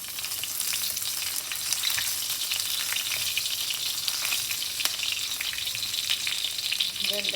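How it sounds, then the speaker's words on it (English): Green chilies hitting hot oil for a Chettinad prawn stir-fry, a steady, close, dense sizzle with crackling pops throughout and a faint stir near the end, no talking. "Now I add the green chilies."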